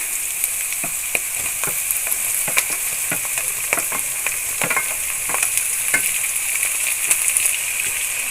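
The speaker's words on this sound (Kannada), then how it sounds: "ಈಗ ನೀರುಳ್ಳಿ ಎಲ್ಲ ಎಣ್ಣೆಲಿ ಫ್ರೈ ಆಗಿದೆ ಇವಾಗ ನೆಕ್ಸ್ಟು ಟಮಕಾಯಿನ ಹಾಕ್ತಾ ಇದ್ದೀನಿ" Onions and tomatoes frying in oil for a bitter gourd stir-fry, a bright steady hiss with a run of light ladle taps and scrapes at irregular intervals, close-up and with no voices.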